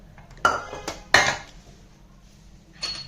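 Metal pots of a pressure cooker clank and clink a few times at close range, followed by quieter handling, with no talking.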